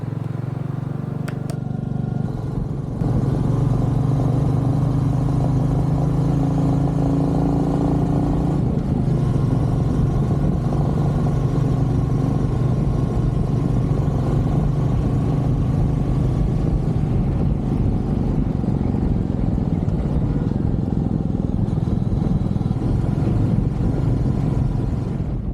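A Royal Enfield Meteor 350 motorcycle is ridden on an open road in Italy, its engine droning loud and close with steady low rumble and shifting pitch for the whole stretch, no voices over it.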